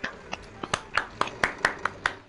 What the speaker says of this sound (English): You gotta clap.